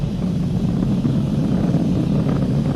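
SpaceX Falcon 9 rocket engines during a crewed launch, throttling back up to full power past max Q, a dense, continuous distant roar with broad rumbling noise and no clear changes.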